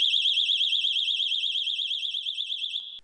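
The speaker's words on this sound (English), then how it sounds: "So when they start smashing at the window, which doesn't break, an alarm goes off." A glass-break alarm in a van, one loud high-pitched warbling electronic siren sounding steadily for about three seconds before cutting off.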